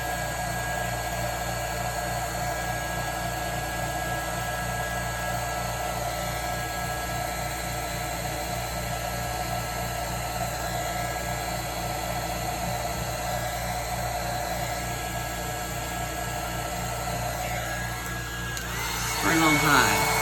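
A heat gun blows hot air over resin waves, a steady, close whirring roar of fan and airflow that holds constant for most of the stretch before a brief burst of louder rustling near the end.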